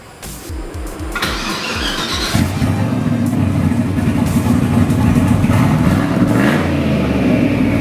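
A K24 engine in a prototype racer car cranks with rhythmic starter pulses, catches and fires up into a loud, steady close idle with blips of revving.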